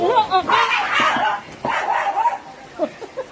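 A dog barks in short, sharp bursts and yips, close by, with people talking over and between the barks, at Hinaguan Nature Park.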